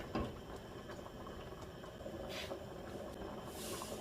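A pot of unripe plantain with ground shrimp and hot pepper boils steadily, giving a low continuous bubbling and hissing that holds at an even level throughout, with a few brief higher hissy bursts.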